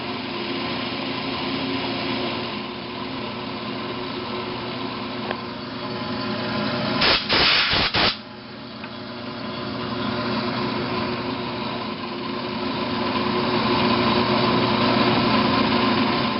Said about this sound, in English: Put in my collet. I'm going to start machining.